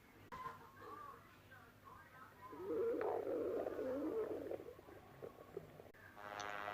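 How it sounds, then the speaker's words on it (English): A stomach growling, heard as a gurgling, rumbling burst that swells in the middle and then fades, close and fairly quiet with faint background noise. "your stomach sounds adorable"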